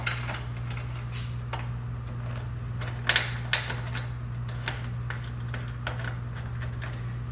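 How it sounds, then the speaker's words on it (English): Bolts being threaded by hand onto an engine snorkel box give soft metallic clicks, scrapes and small taps scattered irregularly over a constant low mechanical hum, close and fairly quiet. "Thread the bolts by hand."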